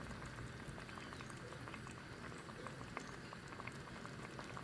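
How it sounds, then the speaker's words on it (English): Pot of curry turkey drumsticks at a steady boil on the stove, with a continuous bubbling simmer and small pops and crackles throughout, no talking. "So it reached back to a boiling point, so I will switch the stove off now."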